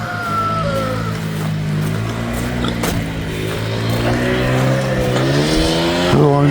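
A failing 4-wheeler ATV engine, just fitted with a new piston, revs and drones steadily close by, its pitch wavering and climbing toward the end, with no idle to it.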